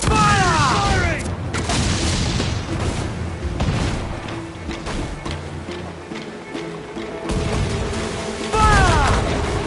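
Ship cannons firing during a naval battle in the video game Assassin's Creed IV Black Flag: repeated heavy booms and crashes, loud and dense throughout, with shouted voices in the mix.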